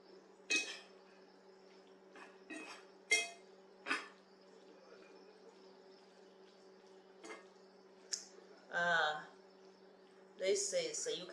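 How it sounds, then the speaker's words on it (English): Half-cooked elbow macaroni stirred in a pan with onion, small potatoes and herbs for a home casserole: sparse clinks and scrapes of a utensil against the pan, a few separate knocks and rattles in a quiet kitchen. "now I'm going to mix this halfway cooked elbow macaroni"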